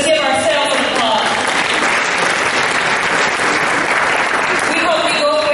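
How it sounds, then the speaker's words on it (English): A citizens' forum audience in Jackson applauds loudly and continuously for several seconds, a dense close clapping crowd with voices mixed in. "Let's give ourselves an applause."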